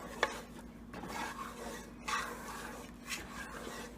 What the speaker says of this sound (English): At this point we need to stir this milk, keep on, otherwise this will get the brown spot.